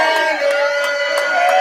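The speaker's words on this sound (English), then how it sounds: "Nice crowd here today." Crowd cheering and whooping at a live sports-talk radio broadcast, a steady wash of many voices at moderate distance, continuous and fairly loud throughout.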